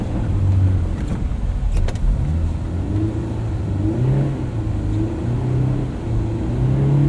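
A 2001 Honda S2000 AP1 engine hums and revs while the car drives steadily in snowy conditions, with gear-by-gear pitch rises and steady road and cabin noise underneath. No voices are heard.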